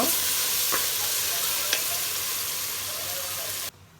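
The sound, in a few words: tomatoes frying with onions in a pan for chicken curry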